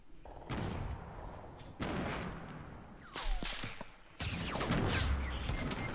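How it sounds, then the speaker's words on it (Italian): Gunshots ring out in the Fortnite video game: several sharp, loud bursts separated by short gaps, with ringing decays and a heavy final volley near the end, no talk over them. "quelli davanti mi hanno sparato"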